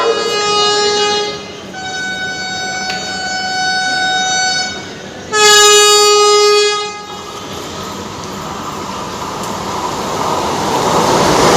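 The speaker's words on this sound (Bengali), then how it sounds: "এবার ওভারটেক করবে হাওড়া পুরী বন্দে ভারত" A Howrah-Puri Vande Bharat express overtakes with three loud, sustained horn blasts in close succession, then a steady rumble of the passing train.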